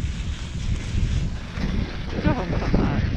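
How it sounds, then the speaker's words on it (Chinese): Strong gusting wind on a ski slope at Rusutsu, a broad steady roar buffeting the microphone throughout with no voices. "因为下午是突然风很大"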